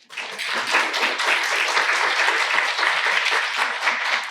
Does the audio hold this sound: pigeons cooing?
no